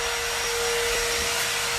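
A vacuum cleaner runs steadily nearby, a loud continuous whine with a constant motor hum, unbroken for the whole stretch with no voices.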